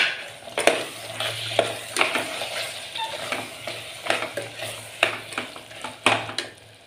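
Chicken that has been washed and cleaned goes into a pan for a Kerala-style bachelor's chicken curry, sizzling steadily while a spoon scrapes and stirs it in irregular bursts, close and fairly loud.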